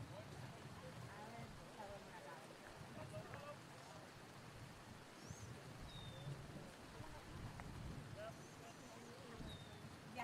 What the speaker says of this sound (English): the rain gets a little bit heavier